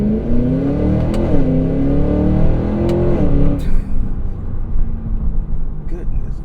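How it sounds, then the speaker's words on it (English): A 2024 Cadillac Escalade V with all-wheel drive launching hard, its engine revving loudly and rising in pitch for about three and a half seconds before dropping away into rumbling road and wind noise. "This Escalade sounds fantastic."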